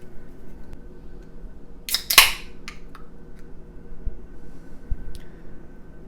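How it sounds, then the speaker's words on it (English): A beer is cracked open with a sudden sharp snap and a short fizzing hiss in a quiet room, followed by a few faint clicks and light handling taps. "let's crack her open, pour it out"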